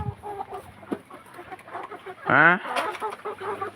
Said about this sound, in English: the first 5 chickens started to lay eggs